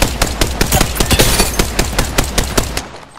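Enemy squad gunfire in a shooter video game: loud, close bursts of rhythmic automatic shots, evenly spaced cracks that pound steadily for about three seconds before stopping abruptly.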